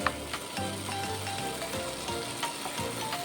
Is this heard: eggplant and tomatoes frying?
yes